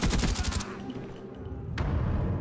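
Rapid burst of suppressed Skorpion fire in a Search and Destroy match after the bomb plant, a dense rattling volley up front followed by lower thumping shots, fairly loud with no talk over it.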